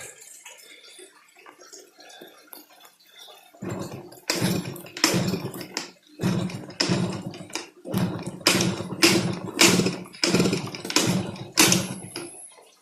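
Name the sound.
motorcycle engine revved with throttle, Mikuni carburetor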